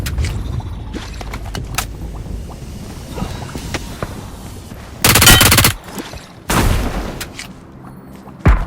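Automatic gunfire in the mobile battle-royale game PUBG Mobile comes in two loud, dense bursts, preceded by scattered quieter pops and clicks and followed by a single late shot.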